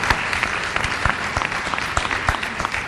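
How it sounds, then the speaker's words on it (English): Applause from an audience at an annual lecture fills the clip, a steady wash of many hands clapping at close range for a speaker leaving the stage, with no voices rising above it. "Please, a round of applause for her"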